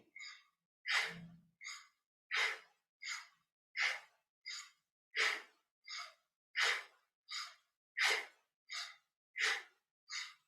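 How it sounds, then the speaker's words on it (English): Deep, slow yoga breathing, a regular series of about fourteen loud, airy inhales and exhales with short silences between them, very close and alone. "Inhale, exhale. Inhale, exhale."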